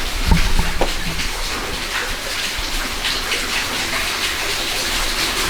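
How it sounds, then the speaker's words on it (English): Small waterfall spilling through a sandstone arch on a forest trail, a steady broadband splash and rush that holds evenly throughout, with a brief low knock near the start. "And here's a little waterfall."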